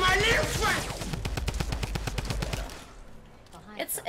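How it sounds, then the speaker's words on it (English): Rapid bursts of Tommy gun fire in Fortnite, a dense rattling string of shots running loud and close for nearly three seconds, then fading into quieter game noise with a few faint sounds at the end. "Let's use the Tommy gun."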